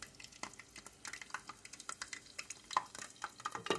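Shrimp egg rolls frying in hot oil, a steady crackling sizzle with bursts of bubbling and popping throughout, close and fairly quiet.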